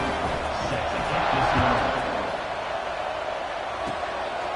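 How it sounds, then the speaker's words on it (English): A stadium crowd in the College Football 26 video game keeps up a broad, steady buzz after a score, swelling slightly midway and then easing off, with no distinct cheers standing out. "this crowd is buzzing after that last score"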